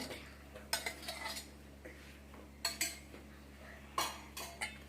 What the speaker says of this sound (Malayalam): എന്നിട്ട് നന്നായിട്ടൊന്ന് ഇളക്കി കൊടുക്കാം കേട്ടോ